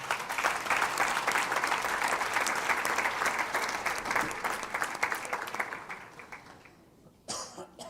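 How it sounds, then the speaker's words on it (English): Temple audience at a Satya Narayan Vrat Katha gathering giving a sustained round of applause, many hands clapping at moderate volume for several seconds, tapering off, with a cough and a brief sound after it fades. "they deserve a wonderful round of applause"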